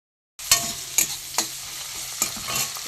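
Turmeric, chilli, cumin and coriander powders being mixed with water: a spoon stirs and knocks against the bowl in a handful of distinct clicks over a faint hiss.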